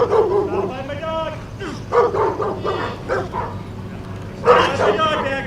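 A dog barks and yips close by at a rabies clinic, in several loud bursts mixed with a person's raised voice and some whimpering.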